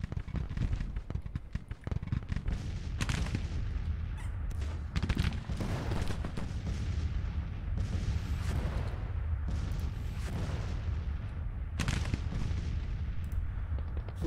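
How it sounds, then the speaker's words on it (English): Artillery counter-battery fire from Civil War cannons, including three-inch ordnance rifles, in the Grand Tactician: The Civil War battle game at Vicksburg. Loud, repeated booming shots sound near and far in an irregular rhythm over a constant battlefield rumble. "We get these men a counter battery fire now up on our ridge behind us."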